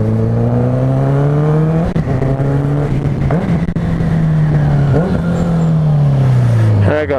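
A motorcycle engine fitted with a dB killer exhaust insert idles and revs with a steady droning note that rises and falls, loud and close, with a slightly raspy, high-pitched edge.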